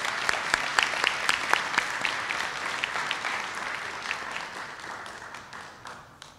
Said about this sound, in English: how about one final round of applause for these wonderful students